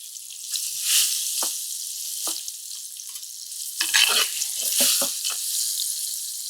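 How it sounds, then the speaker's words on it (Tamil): Cut raw mango sautés in a pan for a Tamil pulissery dish, giving a bright hissing sizzle close up with uneven crackles and pops. The pops bunch up toward the end, as if the pieces are being stirred, and no one talks. "இதை ஒரு 2லேருந்து 3 நிமிஷம் அப்படியே நம்ம வதக்கி எடுத்துட்டு"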